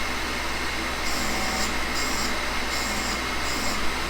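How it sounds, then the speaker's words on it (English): A shop vacuum runs steadily beside a milling machine, drawing off fine dust as a brazed carbide boring bar is ground, a constant broadband whoosh with faint shifting tones throughout and no talk. "I got a vacuum there that effectively catches the dust."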